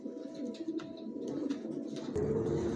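Racer pigeons of a long-distance Johnson line cooing close by, soft repeated coos over a low hum, with a louder burst near the end.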